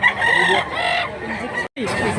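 A rooster crows loudly and close by, a long strained call, followed by a brief pause and the start of another crow.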